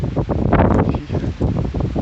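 Steady blustery wind buffeting the microphone at a shrine in Saitama, a continuous low rumbling roar with gusty swells throughout.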